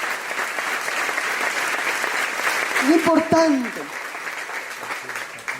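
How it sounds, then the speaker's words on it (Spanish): A church congregation applauds the King during a Spanish-language sermon, a continuous crowd clapping texture that a single voice briefly speaks over near the middle before the clapping thins toward the end. "Fuertes aplausos al Rey."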